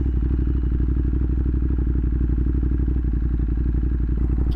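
Motorcycle engine idling close by while hot, a loud, steady low thrumming with a rapid even pulse and a slight clatter, running alone without talk.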